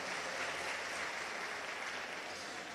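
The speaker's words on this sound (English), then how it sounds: "Can we please give Mr. Kotier another warm round of applause?" Faint, distant applause at a South African youth forum with the Deputy President: a steady, even wash of clapping with no distinct individual claps and no talk over it.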